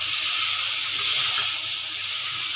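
Hot water poured from a vessel into a pan of egg curry with potatoes, a steady close splashing stream lasting a few seconds, with no talk over it.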